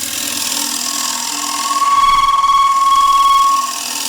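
Shear scraper cutting a thin square wooden plate on a lathe, a loud continuous hissing scrape that rises into a ringing whistle-like tone in the middle before easing off, no talk.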